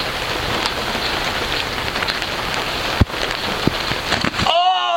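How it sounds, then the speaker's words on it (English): Rain falls on budget two-person tents, a steady close patter of drops with a couple of sharper hits, before the sound cuts off abruptly near the end. "this one's going to be a slight disadvantage because it's now raining"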